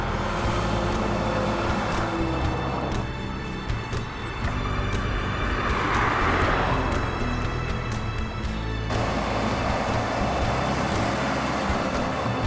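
A DAF 1900 truck runs on a road in Suriname, its steady engine rumble loud and close, swelling briefly mid-way as traffic noise blends in.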